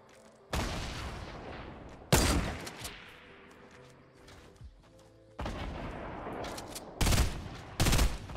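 Burst rifle fire in Fortnite rings out in several sharp, loud volleys separated by quieter gaps, with the last two bursts coming close together, and no voices over it.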